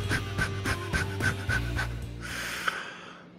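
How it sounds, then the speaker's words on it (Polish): Intense breathing exercise right into a microphone: a quick run of about eight rhythmic, forceful panting breaths, followed by a longer, drawn-out exhale, close and loud. "To, co słyszycie może teraz w mikrofonie, to jest kilka oddechów, które biorę intensywnych,"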